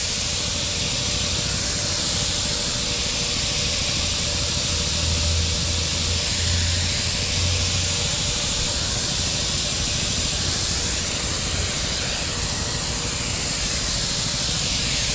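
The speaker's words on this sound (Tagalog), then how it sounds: "Tama-tama lang yung spray natin pandamo." A sprayer applies herbicide to weeds at midday, making a loud, steady hiss that runs unbroken for the whole stretch with a low mechanical hum underneath.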